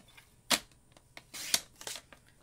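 Cardstock paper being cut on a paper trimmer for a craft treat holder, a few brief close crisp slicing and rasping strokes with short pauses between, no talking.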